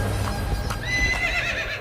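A horse gives a loud, wavering whinny that rises and trembles through the second half, set over a steady low rumble with faint hoof clops earlier and no talking.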